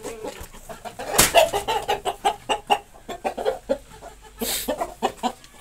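A prized rooster, valued at 30,000, at a poultry show in Islamabad gives repeated close, loud clucks and short calls in an irregular rhythm, standing alone without talk.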